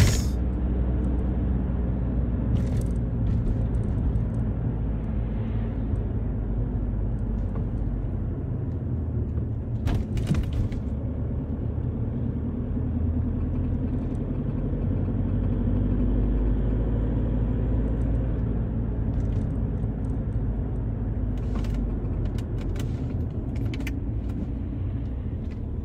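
A car drives through the streets of Paris, heard from inside as a steady low engine and road rumble with a few scattered clicks and thumps, continuous and unchanging throughout.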